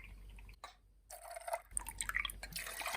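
Vanilla vodka poured for shots, a quiet liquid trickle and drip that starts, stops briefly, then resumes in short splashy bursts, close and faint with no talk.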